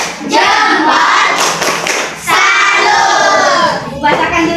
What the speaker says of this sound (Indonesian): Tepuk salut semuanya.